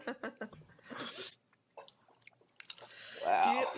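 A streamer chews food close to the microphone during a livestream, with soft wet mouth noises and breaths broken by short pauses. Brief voice sounds mix in near the start.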